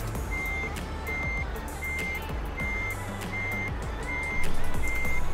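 A truck in Euro Truck Simulator 2 backs into a parking spot, its reversing alarm giving regular, evenly spaced beeps over a low, steady engine rumble.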